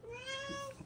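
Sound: cat meowing

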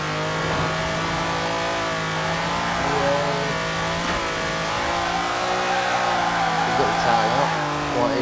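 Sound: car engine revving in video game Forza Horizon 4

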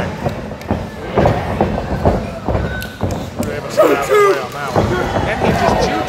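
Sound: person imitating a train choo-choo

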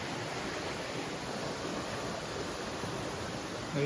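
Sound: small stream waterfall

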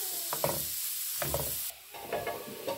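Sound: onion frying in oil

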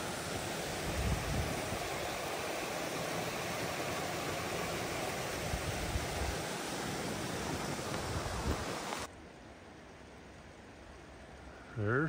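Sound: waterfall

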